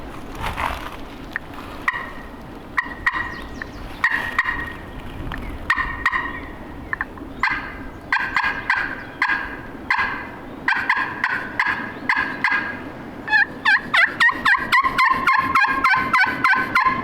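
Wild turkey gobbling on public land, a long run of loud, rapid, rattling gobbles in repeated bursts that grow denser and sharper toward the end, with no talk.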